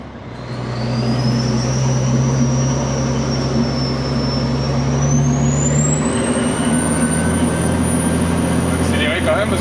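A small dump truck loaded with carrots accelerates uphill, its engine a loud, steady drone with a slowly rising whine that holds throughout, heard from close by.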